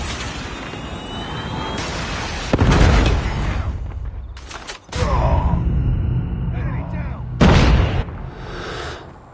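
Predator missile strikes in Call of Duty Mobile, played on an iPhone 13: heavy booming blasts land one after another over game noise, with brief voice callouts between the impacts.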